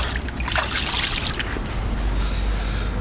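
A caught zander released back into the water during a night fishing trip in Kyiv, a continuous splashing, trickling wash of water, close and fairly loud with no talk.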